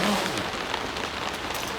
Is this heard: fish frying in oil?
no